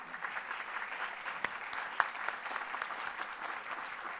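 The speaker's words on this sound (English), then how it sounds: "A round of applause," An audience applauds a conference panel at the GFMD, a soft, distant wash of clapping that stays fairly even for a few seconds, with a couple of sharper claps standing out.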